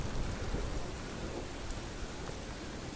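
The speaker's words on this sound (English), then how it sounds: "See the rain." Rain pours steadily during an outdoor storm, a dense even hiss of drops striking surfaces nearby, with a faint low rumble underneath and no talking.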